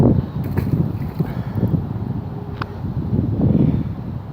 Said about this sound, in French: Du vent aujourd'hui.